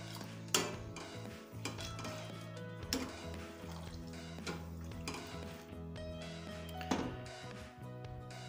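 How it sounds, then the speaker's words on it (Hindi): A spoon stirs a thickening plum and falsa juice mixture with cornflour in a cooking pot, giving soft scraping and clinking against the metal with a few sharper knocks, steady and close, with no talk. "साथ साथ चम्मच को हिलाते रहेंगे ताकि गुठलियाँ ना बने"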